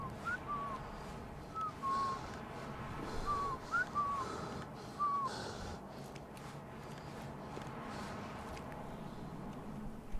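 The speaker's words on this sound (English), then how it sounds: "Stop whistling at me." A character in the video game Burden gives a series of short, rising and sliding whistles, several in a row at a moderate distance, over a low rumbling ambience.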